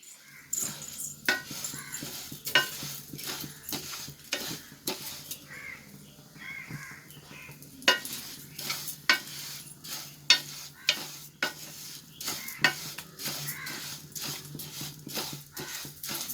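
Green gram (moong dal) dry-roasting in a pan for payasam, the spoon stirring it in quick, uneven scraping and ticking strokes that keep going throughout, fairly close, with no talking.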